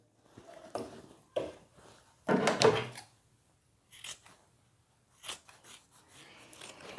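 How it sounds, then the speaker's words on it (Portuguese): Scissors trimming excess fabric from a tailored vest while sewing, several crisp snips and one longer run of cutting, close and distinct with quiet pauses between cuts. "vou aparar um pouco dessa sobra, diminuindo aqui"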